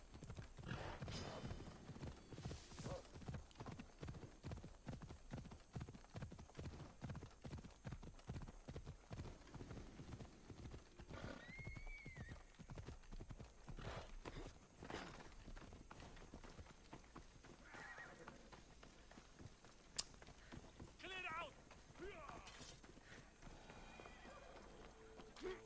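A horse in the Assassin's Creed Odyssey video game, hooves clip-clopping in a fast, steady rhythm at close range, with a whinny partway through and someone talking over it.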